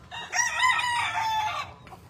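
A stag rooster on a farm in Cavite crows once, a loud, close, drawn-out cock-a-doodle-doo lasting about a second and a half, with faint farm background afterward.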